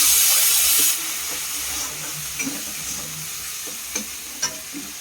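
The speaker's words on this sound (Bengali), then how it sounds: "লঙ্কার গুঁড়ো, হলুদ, ভালো করে নেড়ে নেওয়া হচ্ছে" Chili powder and turmeric stirred in hot oil in a pan, a loud sizzling hiss at first that settles into a softer fry with a few scraping and clinking spoon strokes, no talking.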